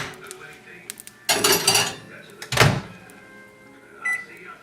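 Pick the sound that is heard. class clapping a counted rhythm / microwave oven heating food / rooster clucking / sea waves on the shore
microwave oven heating food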